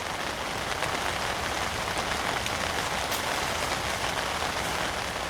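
Steady rain falls on the water and banks of a fishing lake, a dense even hiss with scattered sharper drops, close and constant throughout with no wind or voices.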